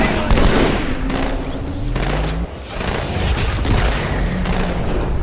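Steady gunfire from the Halo 2 Anniversary level Cairo Station, a loud, continuous fusillade of automatic weapon shots and booms with a brief dip in the middle, alongside game sound effects.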